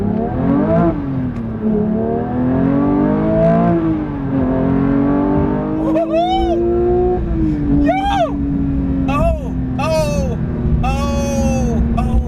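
Manual Porsche GT3 engine revving hard toward 9000 RPM, a loud close harmonic wail that climbs and holds, then several sharp blips rise and fall in quick succession near the end, with rumble from the road underneath.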